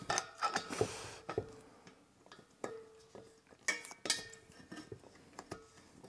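A reverse-threaded hose fitting is turned onto a Mr. Heater BuddyFlex portable heater, giving quiet, close metallic clicks, ticks and light scraping taps in uneven little clusters with pauses between them.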